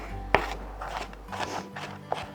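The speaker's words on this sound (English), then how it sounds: "That looks like enough diced red onion right there. So I'm gonna continue to chop it smaller." A knife chopping diced red onion into smaller pieces on a cutting board in a kitchen, a few irregular soft chops and scrapes, close and quiet.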